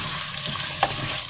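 Garlic and carrots sizzle steadily in a frying pan for a home-cooked vegetarian biryani, with a brief scrape of stirring cutting through the soft, constant frying hiss.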